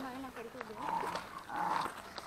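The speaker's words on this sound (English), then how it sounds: "Yeah, there is four dogs over here." A pack of four small dogs at a seafood restaurant in Manado gives short whining and yelping cries close by, with people talking over them.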